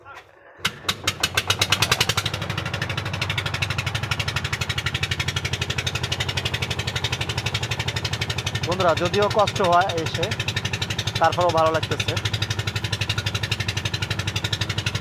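A river trawler boat engine on the Madhumati sputters to life with rapid cranking pulses, then settles into a loud, steady, throbbing idle that runs throughout, with someone talking briefly over it.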